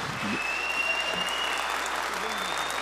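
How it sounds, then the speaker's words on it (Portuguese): Supporters applaud during a legislative plenary session, a dense sustained clapping from a crowd with a faint tonal whine in the background, steady and loud throughout. "Deputado Gianazzi trouxe torcida hoje?"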